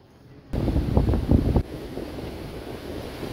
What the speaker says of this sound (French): Je te laisse imaginer le bruit des vagues.